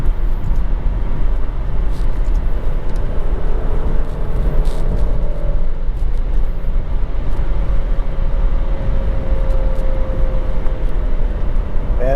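High-mileage 2018 Alfa Romeo Stelvio driving on a bumpy back road, heard as a steady, loud cabin drone of engine and road noise with a faint rising tonal whine in the middle and occasional knocks.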